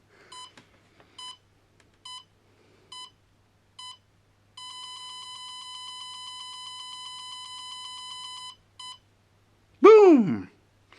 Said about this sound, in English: It does make sounds, as you probably heard it beeping